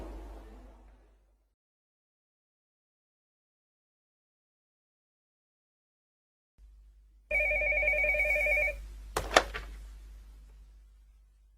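Telephone ringing in a shop, a clear electronic ring that starts after a long silence, with a click and fading room noise after it.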